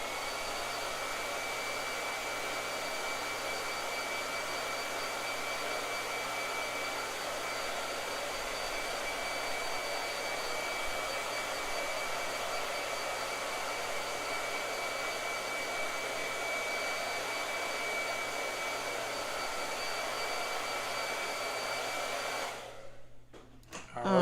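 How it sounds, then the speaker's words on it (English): An indoor blow dryer runs with a steady, loud whooshing roar for the whole stretch, then cuts off abruptly at the end, with no talking. "Blow dryer."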